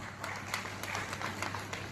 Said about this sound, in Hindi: तालियां बहुत बज रही हैं